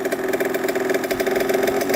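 A cheap used dirt bike engine runs steadily near the mic, its idle climbing into a slight rev as the handlebars turn and a sticking throttle cable pulls, with a continuous buzzing hum and no talk.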